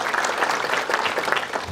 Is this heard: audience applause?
yes